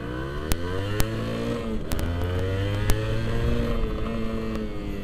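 A motorcycle engine runs at a steady idle after a week without being ridden or warmed up, humming with a low, even drone, occasional sharp ticks and a light blip of revs, close by and with no voices.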